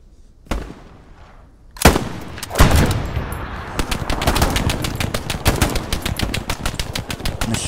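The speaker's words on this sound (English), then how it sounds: "Machine gun down there," Machine gun fire in the WWII shooter Hell Let Loose, Battle of Kursk map: after a lone shot and a brief lull, a loud close burst erupts, settling into sustained rapid automatic fire with overlapping gunshots continuing to the end.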